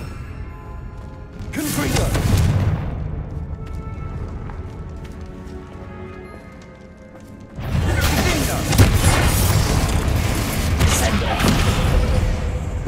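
Fiery Confringo blast spell cast in the Hogwarts Legacy video game, a loud burst that swells at about two seconds, eases off, then erupts again into a sustained roaring rumble, with voices over it.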